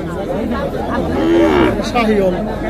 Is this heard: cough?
no